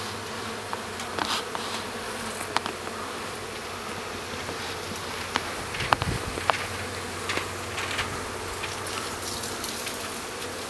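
Many bees buzzing steadily as they fly around nearby during a bee removal, a continuous droning hum with louder passes and a few soft taps.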